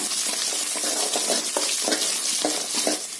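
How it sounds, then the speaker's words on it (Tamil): Small shallots and curry leaves sauté loudly in hot oil for a banana stem kootu, a dense close sizzle broken by repeated scraping stir strokes. "சின்ன வெங்காயம் கொஞ்சமா கட் பண்ணி வச்சிருக்கேங்க, அதையும் சேர்த்திடலாங்க. கருவேப்பிலை ஒரு இருக்குங்க. இது எல்லாம் சேர்த்து நல்லா பொன்னிறமா வதக்கி விடுங்க"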